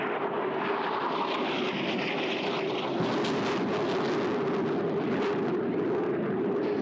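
An F-100 Super Sabre jet roars past at an air show with its afterburner lit, a loud, sustained rumbling blast that swells midway and holds to the end with no talk over it.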